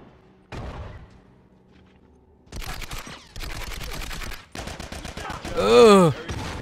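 Spectre gunfire in The Last of Us multiplayer, heard as rapid bursts of automatic shots in several separate volleys with short gaps between them, loud and close, followed by a swelling whooshing effect at the end.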